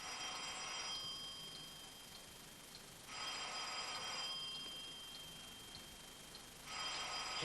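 An old-style telephone bell rings in a room, three long rings separated by pauses, moderately loud over a faint background hiss.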